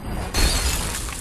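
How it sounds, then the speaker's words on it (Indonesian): A jade stone, charged with spiritual energy, bursts apart in one sudden loud crack that spreads into a bright, sustained crumbling hiss, with no talk over it. "batunya hancur"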